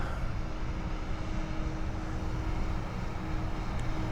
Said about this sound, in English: I'm going to bring the drone down